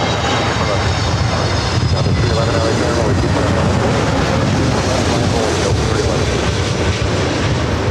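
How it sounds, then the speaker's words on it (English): An American Airlines A321neo lands at LAX, its jet engines a loud continuous broadband roar that holds steady, with faint talk mixed underneath. "This arrival is American Airlines 2396 coming in from Philadelphia on the A321neo."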